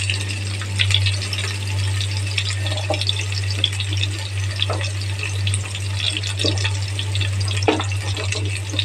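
Mustard seeds, green chili and cumin sizzle in hot oil for a hotel-style beans and carrot fry. A steady, close frying hiss runs throughout, with a low hum underneath and faint pops scattered across it.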